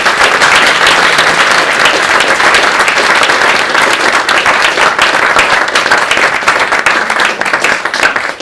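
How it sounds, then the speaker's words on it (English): An audience at a university lecture gives a long, loud, sustained round of applause, dense clapping filling the room without a break. "they really deserve a round of applause"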